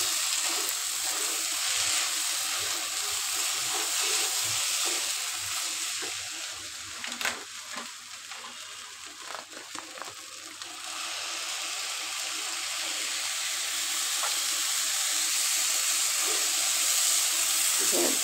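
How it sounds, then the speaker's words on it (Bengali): Milk goes into fried polao rice in a hot pan, producing a broad steamy hiss that thins for a few seconds amid scattered clinks and scrapes, then swells back to a strong, even sizzle. "আর এটার ভিতরে আমি দুধটা দিয়ে দিব।"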